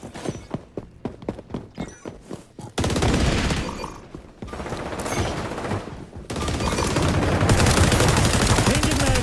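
Gunfire in a chaotic shooter video game, first a series of single shots at a quick regular pace, then dense sustained automatic fire and overlapping bursts that stay loud and close.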